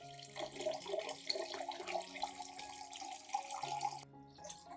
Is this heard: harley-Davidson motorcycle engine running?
no